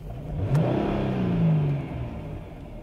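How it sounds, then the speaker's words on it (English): A Dodge Charger engine with a faulty electronic throttle body revs up once, rising in pitch and then falling back toward idle, moderately close with no talking. "So I'm gonna give it gas."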